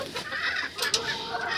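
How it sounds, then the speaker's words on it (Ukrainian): Broody hens and farmyard chickens clucking close by, a steady low stream of soft clucks and murmurs with a couple of sharper calls near the end, no talk over them. "Все, квочки хай сидять тут."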